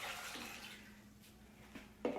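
Brine pours into a jar of pickled cucumbers with a soft, steady splashing trickle, faint and close, ending in a couple of small sloshes and clinks.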